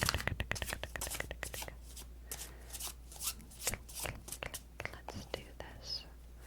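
Tarot cards being shuffled by hand, a quick run of crisp riffling flicks followed by slower, scattered card slaps and slides, close and fairly quiet, with faint whispery voice sounds mixed in.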